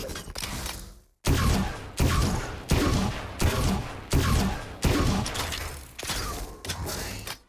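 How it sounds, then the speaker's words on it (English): Sheriff pistol with the Prelude to Chaos skin in VALORANT firing about seven loud, powerful shots in a steady rhythm, each a sharp crack with a short decaying tail, alone with no talk. "I also thought that the Sheriff had a really distinct shooting sound"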